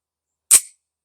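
A single sharp crack from a Girsan Regard 9mm pistol firing Sterling 115-grain steel-case FMJ ammunition at an outdoor range, close and loud, decaying within a quarter second and surrounded by silence.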